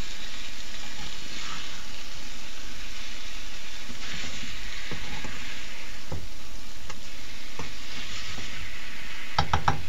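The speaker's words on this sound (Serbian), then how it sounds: "Sve to lepo mešamo. Vodimo računa naravno da se krompir ne zalepi za tiganj." Potatoes fry in a pan for a chicken, mushroom and potato dish, with a steady loud sizzle throughout and repeated scraping stirs of a utensil against the pan, ending in a few sharper clinks.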